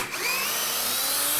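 A cordless drill spins up and runs continuously, driving a screw into soft redwood without a pilot hole, a close, loud whine held for the whole short stretch.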